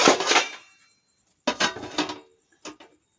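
A metal lid clatters onto a cooking pot in a village kitchen: a bright clanking contact, then a second rattling set-down, and a last small tap, each close and crisp with quiet between.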